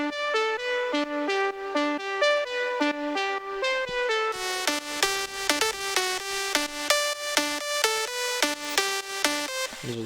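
A clean, bright synth lead plays a plucky melody in steady rhythm, then a fuller, buzzier layer joins halfway and thickens the tone.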